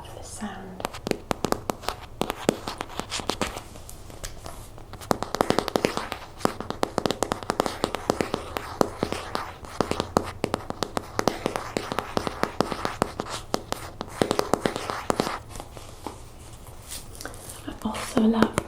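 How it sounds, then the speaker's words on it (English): Plastic container tops from a grocery haul are handled and tapped up close, giving a dense run of sharp clicks, taps and crackles throughout, with soft whispered talk underneath. "I also love the sound of these plastic tops."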